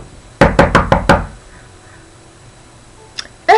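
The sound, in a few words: knocking on a door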